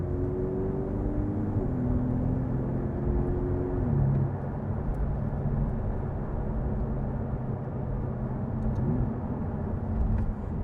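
A Ferrari 488 Pista engine drones steadily while driving, with its pitch shifting as gears change, heard from inside the cabin.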